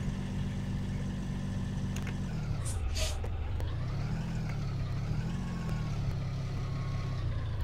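A 2008 Blue Bird Vision school bus driving in the Rigs of Rods simulator gives a steady diesel engine drone. The rumble drops in pitch and then climbs again as the bus shifts and accelerates, with a few brief clicks and hisses on top.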